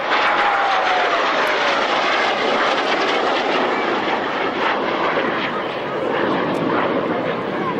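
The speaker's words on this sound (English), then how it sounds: "Flanker. The Sukhoi Su-27." A Sukhoi Su-27 Flanker jet roars past at the 1996 Yeovil Airshow, a loud continuous engine blast with a falling whine, heard over a crowd with commentary speech.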